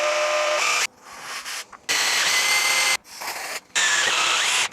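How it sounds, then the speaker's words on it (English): Power drill boring a 7mm hole at medium speed for a Saab 9-3 battery clamp repair. Three loud, steady whirring runs are broken by short pauses, close up, with no talk. "with your drill on a medium speed, making sure to go dead straight"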